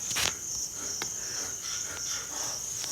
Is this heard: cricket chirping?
yes